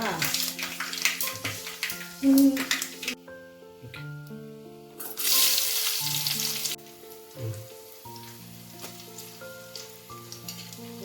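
Fenugreek seeds sizzle and crackle in hot oil for a fish head curry, with bursts of loud frying hiss that come and go over a clatter of utensils and some clanking.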